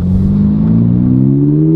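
A 2022 Subaru BRZ engine revs up from inside the cabin, a loud, rising drone that climbs smoothly in pitch across the whole stretch with no talking.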